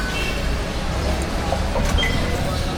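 Steady rumbling noise of a light rail transit station with a train moving nearby, faint clicks and distant voices mixed into the continuous din.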